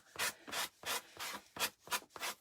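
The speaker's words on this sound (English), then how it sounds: "I just take my sanding sponge from the Dollar Tree and I just go down with it" A Dollar Tree sanding sponge rubbed along a paper edge overhanging a craft wall hanger, six or seven quick close scrubbing strokes in an even back-and-forth rhythm.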